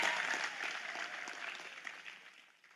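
An audience claps at an outdoor religious gathering, a steady patter of many hands that stays moderate and slowly fades toward the end.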